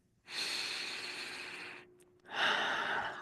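Two long, close, breathy airflows heard alone, a slow deep inhalation followed by a brief pause and a second strong breath, soft and noisy like air drawn steadily through the nose and mouth.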